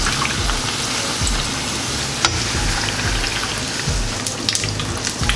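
Tortillas for Tex-Mex crispy tacos frying in a pan of hot oil, a steady close crackling sizzle with scattered sharp pops throughout, no voices.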